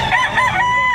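A rooster crows once, loud and near, a drawn-out harmonic call filling the whole moment, at a Saturday rooster market in Lipa, Batangas.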